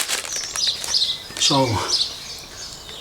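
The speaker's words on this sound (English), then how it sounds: "as you can hear, the bird songs in full chorus" Garden birds chirping and tweeting in a mixed chorus of high, overlapping calls around a feeder stocked with seed, mealworms and fat balls, continuing under a brief spoken word.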